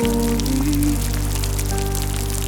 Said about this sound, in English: Alhamdulillah, Ya Rabbi, for the rain